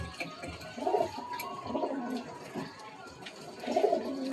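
A chatiyal pair of pigeons, male and female, coo softly in a home loft, with a few low burbling coos rising and fading over steady faint background noise.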